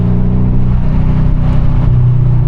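Mercedes S-Class engine pulling steadily after a downshift, a loud continuous low drone with harmonic layers, heard from inside the car without interruption.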